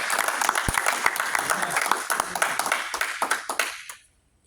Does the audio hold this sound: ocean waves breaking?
no